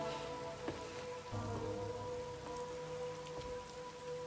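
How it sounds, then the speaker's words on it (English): Steady rain pours across surfaces in a gloomy scene from Master Detective Archives: Rain Code Plus, a dense continuous patter with a low rumble underneath and a faint tonal music bed, no voices. "Until recently, I despised this rain."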